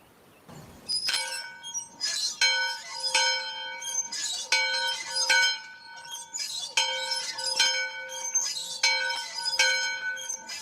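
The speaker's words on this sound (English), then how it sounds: "Let me go ring the bell." A bell is rung repeatedly in steady bursts, each strike ringing out clear and bright with a sustained metallic tone, heard close and alone.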